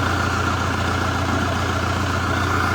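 Scout TE 504 tractor engine running steadily at raised revs around 800, a constant low diesel drone with no breaks, close and fairly loud.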